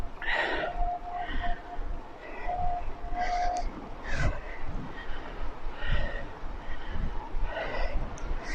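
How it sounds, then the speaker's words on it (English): A train heard from a campsite near the Scottish border, a continuous rumbling roll with repeated horn-like tones rising and fading, moderately distant and steady throughout. "I can just hear the train."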